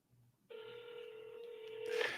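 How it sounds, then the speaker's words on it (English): A phone call rings out over a smartphone speakerphone, one sustained steady ringback tone starting after a short quiet gap, fairly faint, ending in a brief louder burst as the line connects. "I'm going to call him on speaker and see if he answers."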